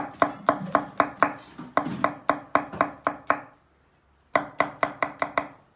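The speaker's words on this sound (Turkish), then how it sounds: "bir dişte sarımsak doğruyoruz" Quick rhythmic knife chops on a board cutting a garlic clove, close and crisp, in two runs with a brief pause between them.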